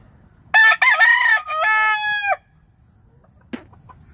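A three-year-old gray gamecock rooster lets out one loud, close crow that breaks in the middle and trails off, followed by quiet and a single short cluck-like sound.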